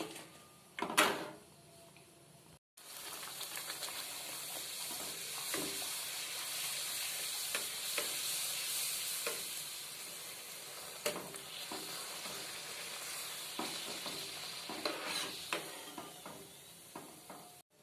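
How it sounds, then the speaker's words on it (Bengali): Spinach kochuri deep frying in hot oil, a steady close bubbling sizzle lasting throughout, broken by scattered clicks and utensil knocks, with a short silent gap near the start. "এইভাবে আমি প্রত্যেকটা ভেজে ভেজে তুলে নিচ্ছি।"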